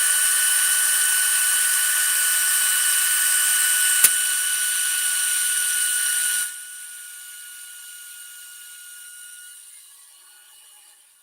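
A steady high-pitched power drill whine with new drill bits runs for several seconds with one sharp click, then drops to a quieter, slowing whir that winds down, in a truck shop.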